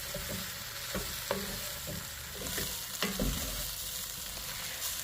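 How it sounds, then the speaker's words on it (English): Beef stew meat and vegetables coated in flour sizzle steadily in a pot, with soft stirring scrapes and occasional clunks of a utensil against the pot, close and alone without talk. "So I'm going to coat everything, combine, and cook that flour for about a minute or so"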